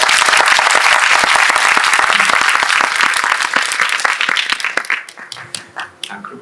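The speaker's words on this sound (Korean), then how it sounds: "큰 박수로 한번." An audience at a film Q&A screening in a cinema hall applauds the director, with dense sustained clapping that thins out into scattered individual claps near the end.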